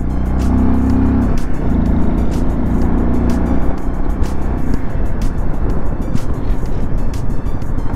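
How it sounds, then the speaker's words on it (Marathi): Motorbikes passing on a high Himalayan road, including big touring bikes such as a BMW 1250 and a Tiger, give a steady, loud engine roar throughout, with low rumble and faint wind. "ते बघा तिकडे बाईक्स चाललेत."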